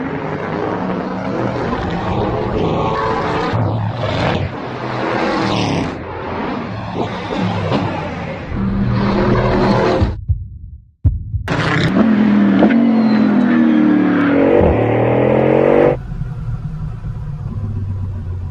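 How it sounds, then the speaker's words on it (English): Loud engine of an 1850-horsepower, 1240 kg Bugatti race car accelerating hard on a track, rising in pitch through repeated gear pulls, with a brief sharp drop near the middle before it roars on again. "This car accelerates like nothing else I've ever experienced"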